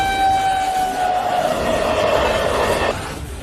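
The Narayanadri Superfast Express rolls along the track at night with a loud, steady rumble, and a long horn tone rings out over the noise before it fades.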